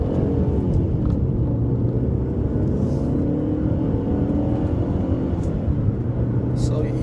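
An Alfa Romeo 156 engine accelerates in first gear with a steady, deep rumbling drone that holds near and loud for seven seconds, without clear pauses or gear changes.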